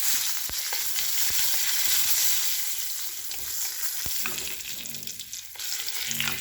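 Curry leaves and asafoetida fry in hot oil with urad dal for a potato masala, making a loud, continuous crackling sizzle with scattered pops and spoon clicks that thins slightly midway. No one speaks.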